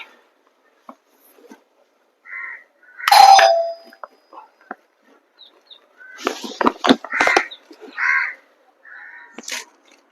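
A doorbell rings once inside a family home, a short bright chime standing out clearly, followed by scattered household noises and faint movement.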